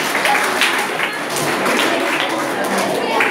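Schoolchildren at a rural school in Shivapura give loud, close, steady applause, a dense continuous patter of many hands with voices mixed in.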